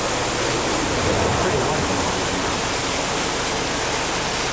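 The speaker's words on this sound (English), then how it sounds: "It's a waterfall." A waterfall in Kenya: a steady, broad rushing roar that stays loud and unchanging throughout, filling the whole sound with continuous water noise.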